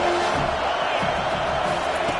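A football stadium crowd roaring as the opposing team is pinned deep in its own end, a dense continuous wall of cheering and noise with a commentator's voice faintly under it.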